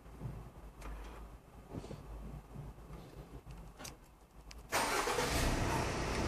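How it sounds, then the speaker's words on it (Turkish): A Subaru Forester started from inside the cabin: quiet clicks and a brief cranking build-up, then the engine catches with a sudden jump to a steady, fairly loud idle. "Aracı ilk çalıştırdığımızda"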